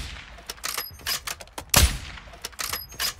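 Gunfire in Warzone 2 on the Vondel map, a rapid string of sharp shots in bursts with one heavier, louder blast near the middle, crisp and close.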